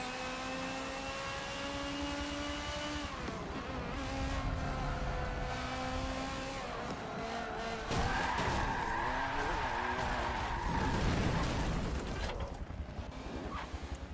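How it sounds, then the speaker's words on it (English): Race cars lapping Suzuka Circuit in an endurance racing video game: droning engine tones rise and shift through gear changes, broken by loud tire skids and squeals partway through, with no voices. "we're coming back to endurance racing for some hopefully clean fun racing on Suzuka Circuit"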